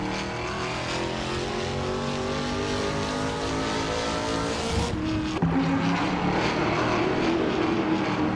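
Race cars, including a Chevrolet Camaro, droning steadily around a track, a loud continuous engine roar with an abrupt cut and shift partway through.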